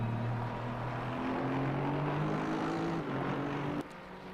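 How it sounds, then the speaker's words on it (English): Sustained engine roar from an Aston Martin GT3 car with a Mercedes engine in a racing video game, a steady loud drone with shifting pitch that drops off sharply near the end. "I think it's a Mercedes engine in the Aston Martin. Whatever it is, it sounds great."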